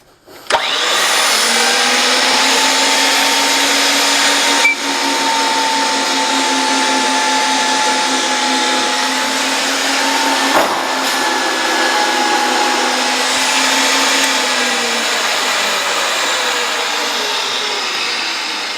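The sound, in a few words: pipe threader threading 2 inch gas pipe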